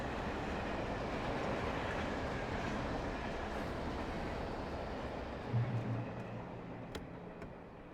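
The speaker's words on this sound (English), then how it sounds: "The train." A train rolls past in the video game Alan Wake Remastered, a steady low rumble of rail travel with a brief clank near the end as the sound slowly fades.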